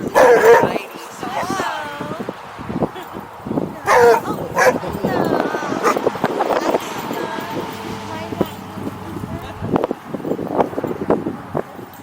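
A puppy yips, barks and whimpers in short, scattered bursts close by, with people chatting throughout and a light rush of wind in the background.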